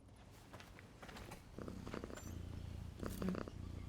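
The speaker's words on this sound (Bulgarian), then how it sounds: "и мърка, не помислих, че мотора го издава този звук" A low, steady purring rumble from an engine in the Syberia: The World Before video game, close and continuous, with soft mechanical clicks and a faint thump layered over it and no talk.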